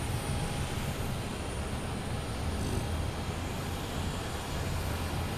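A JetBlue Airbus airliner approaches Logan Airport, its steady distant jet rumble droning without a break.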